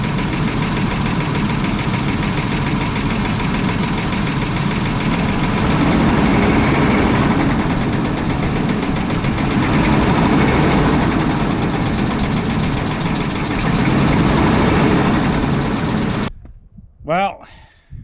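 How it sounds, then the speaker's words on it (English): A 1996 Chevy Blazer engine with a suspected rod knock, running steadily with a rough rhythmic knock and rising briefly on light revs, close and loud, with a person talking over it before it cuts off. "Sounds like a rod knock to me."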